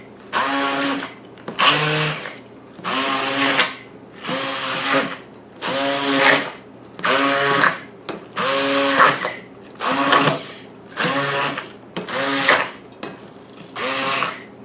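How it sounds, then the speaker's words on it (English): A stick mixer purees soft, hot, freshly cooked pumpkin for a pumpkin pie, whirring loudly in about a dozen short bursts with brief pauses between them. "I'm going to use a stick mixer."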